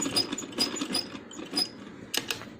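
A sewing machine stitches a double seam on a handmade baby boy's dress, giving a soft, rapid mechanical patter that runs in short runs, with a couple of sharper clicks near the end.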